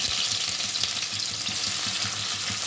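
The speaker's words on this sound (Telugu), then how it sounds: "స్టవ్ మీద ఆయిల్ వేడైంది ఆనియన్స్ వేసుకోవాలి" Onions frying in hot oil in a pan on a stove, a loud continuous close sizzle with faint stirring scrapes and no voices.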